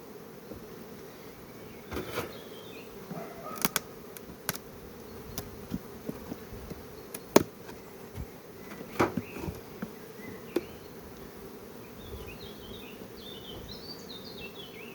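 A soft, steady hum of honeybees buzzing around a hive, with occasional sharp clicks and knocks standing out over the drone.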